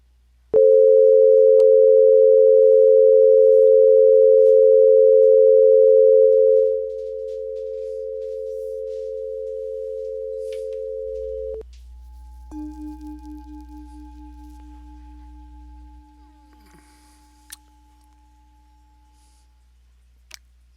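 Image transmission signal tones play alone: a loud steady tone holds for several seconds, drops to a second steady pitch, then gives way to fainter layered tones with a brief warbling section and scattered clicks near the end.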